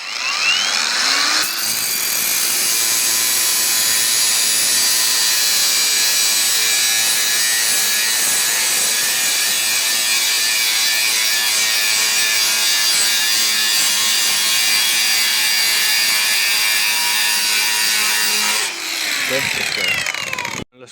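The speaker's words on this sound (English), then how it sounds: "There's the grinder." An angle grinder cuts into a metal front car part on an S12 Silvia turbo build, a loud, continuous, close-up screech holding for almost twenty seconds before winding down abruptly.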